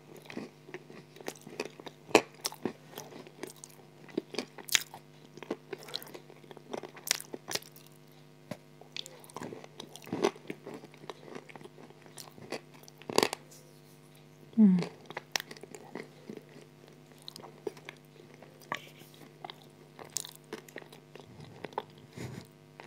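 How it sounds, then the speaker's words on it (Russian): Crunchy chewing of shortbread cookies topped with a thick clay-like paste, close and quiet, with repeated sharp bites and crunches separated by softer mouth sounds and occasional pauses. "Хочу с вами сегодня похрумкать."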